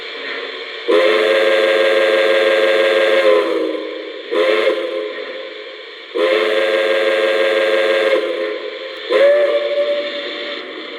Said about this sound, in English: and we'll hear the whistle.